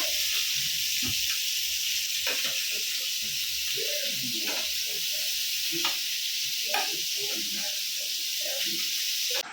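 Fish and prawns shallow frying in a pan of oil for a Konkani-style fish curry, giving a steady, close sizzle and hiss throughout with scattered small pops and crackles.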